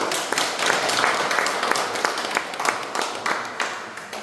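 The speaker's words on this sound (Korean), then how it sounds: "회장님께 큰 박수로 환영해주시면 감사하겠습니다" Audience applause welcoming the chairman of the Art Korea broadcaster at a forum in a gallery hall: steady, dense clapping from a room full of people, sustained at an even level throughout with scattered sharper claps.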